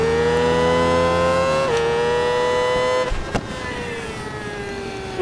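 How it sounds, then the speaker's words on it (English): A 2008 Kawasaki ZX-6R Ninja racing motorcycle in the RIDE 4 game at Laguna Seca, its engine holding a loud, steady high-pitched whine that dips and settles with gear changes, then a sharp knock and a continued lower drone. "Doesn't sound like it's revving particularly cleanly"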